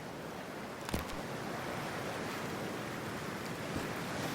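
Water in Cyberpunk 2077 as a character dives in, a steady broad wash of splashing and surging water with a short sharp burst near the start, fairly loud and unbroken.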